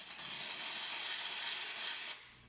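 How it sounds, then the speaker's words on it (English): A steam cleaner nozzle blasts a steady, loud hiss into an Instant Omni air fryer oven, blowing out grease for about two seconds before cutting off abruptly, with no voices. "with the nozzle end, it's perfect with the steam cleaner to get that grease off"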